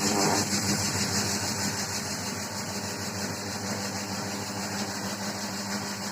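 A homemade livestock feed mixer runs steadily with a droning motor hum and a high mechanical whine, continuous and even throughout, close by with no talking.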